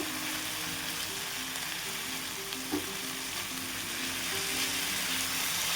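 Sweet corn stir-fried with red chili powder and sauce, a steady close sizzle with soft scraping from stirring throughout, and faint low music or hum underneath; no talking.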